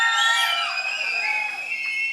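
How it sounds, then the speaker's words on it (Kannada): A church congregation at a Grace Ministry gathering in Bangalore cheering and whooping together, a bright, dense swell of many voices that stays loud and sustained for a couple of seconds. "ಚಪ್ಪಾಳೆ ಬರಲಿ ದೇವರಿಗೆ ಸ್ತೋತ್ರ."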